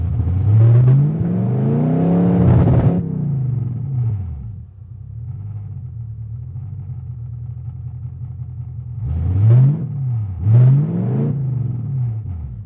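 A Lexus car engine with an idle problem settles into a steady low idle, broken by several sharp revs, two early and a pair near the end, loud and close with no voices.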